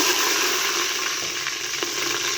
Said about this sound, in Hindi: प्याज, हमने ऐड कर दिए। जैसे आपको पता चलेगा काफ़ी गर्म हमारा ऑयल था।